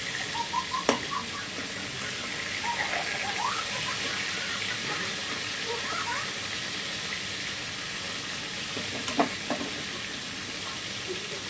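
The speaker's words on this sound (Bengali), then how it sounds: "আর এমনি মাছগুলো ভীষণ ফোটে, সেই বুঝে একটু ভাজতে হবে।" Magur catfish frying in hot oil gives a continuous bright sizzle with bubbling crackle and a couple of sharp clicks, close and steady throughout.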